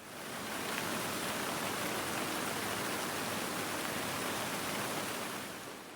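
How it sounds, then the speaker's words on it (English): Steady, dense rain drums on a greenhouse roof from inside, a loud unbroken hiss that holds constant throughout with no talking. "this rain doesn't look like it's going to stop anytime soon"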